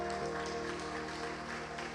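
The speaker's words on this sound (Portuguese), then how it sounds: "Aplauda o Senhor bem forte essa manhã," Church congregation clapping together during a service, a steady wash of applause held at an even level from start to finish, with music and voices mixed in.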